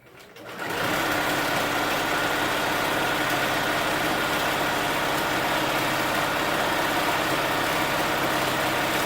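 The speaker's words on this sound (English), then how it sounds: "now I'll restart sewing forward at 5/8 inch" A sewing machine runs continuously, stitching forward on a pencil case with a lace zipper. The steady, fast mechanical whir starts up within the first second and holds at an even, close level to the end.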